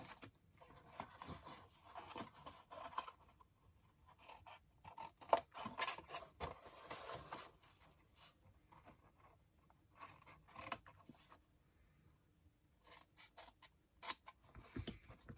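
Scissors miter small paper tabs on a scored bag box, giving a series of close, crisp snips and rustles in irregular clusters separated by quiet pauses.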